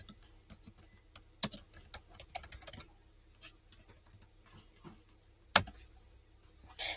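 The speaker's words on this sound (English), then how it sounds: "Just go ahead and type in your name here" Keys clicking on a computer keyboard as a name is typed, in short irregular bursts of taps with a few sharper strokes, close and quiet with no talking.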